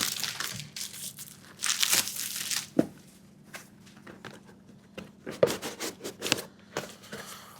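Packaging around a Chinese-made propane system spare part is opened, with close crinkling, rustling and tearing in uneven bursts, a few sharp snaps and a low steady hum underneath, and no speech.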